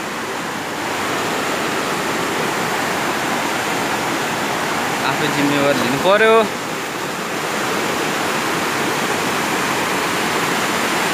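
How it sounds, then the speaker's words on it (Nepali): A mountain river by Midim Bridge rushes in a steady, loud roar of flowing water throughout, with a person briefly speaking over it midway. "यो चाहिँ हाम्रो गाउँको, हाम्रो भिलेजको खोला है"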